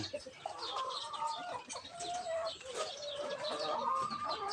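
Chickens with eleven newly hatched chicks in a large coop make a busy mix of soft clucks and high chick peeps, with some cooing, continuous and close.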